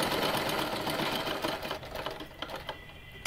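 Sewing machine stitching three fabric loops onto a halter neckline, a steady close whirring run that slows into a few separate stitch taps toward the end.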